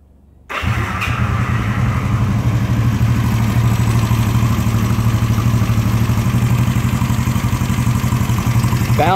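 An old motorcycle engine, still cold, fires up after a brief moment of near silence and settles into a steady, slightly low, loping idle with a rapid even pulse, loud and close with no talk.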